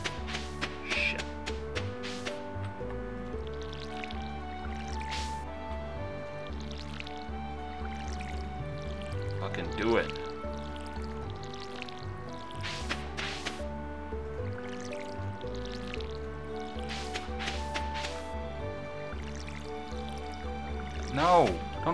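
A watering can wets crops in Stardew Valley, the soft drips and squishy splashes coming one after another over a looping game melody, while someone talks throughout.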